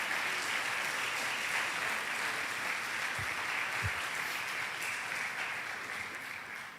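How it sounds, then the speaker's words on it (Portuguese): A church congregation claps loudly in a sustained, dense wash of applause that holds steady for several seconds before easing slightly at the end, with no speech over it. "Se você vai aplaudir, então pode aplaudir bem forte."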